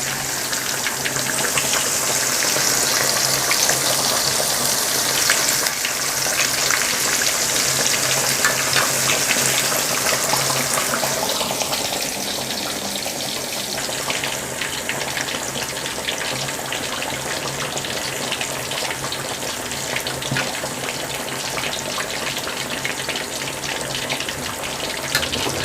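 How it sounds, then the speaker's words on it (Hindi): Fish frying in a pan over a low-medium flame, a continuous broadband hiss that stays even and fairly loud throughout with no talking. "इसे लो मीडियम फ्लेम पर ही हमने फ्राई करना है।"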